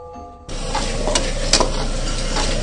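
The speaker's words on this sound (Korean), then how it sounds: "정답은 짜장 볶는 소리였습니다" Black bean sauce (jjajang) stir-frying in a hot oiled pan: a loud, steady sizzle with occasional scraping strokes of a utensil, close by.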